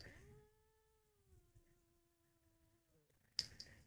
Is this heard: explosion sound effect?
no